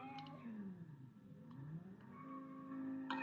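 A car drifts in the video game Just Cause 4, its engine droning and sliding up and down in pitch as it revs, steady and moderately loud, with no talk over it.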